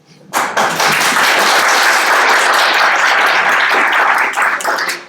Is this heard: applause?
yes